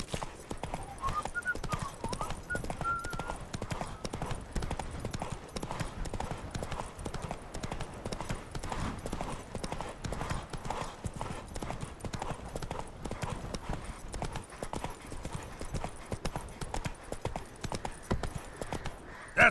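Roach, the horse in The Witcher 3: Wild Hunt, gallops steadily, producing a fast continuous clatter of hoofbeats that stays even and close for the whole stretch.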